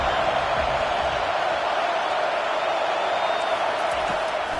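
A home football crowd roars in a dense, continuous wash of cheering and whoops, loud and sustained across the whole stretch with no break.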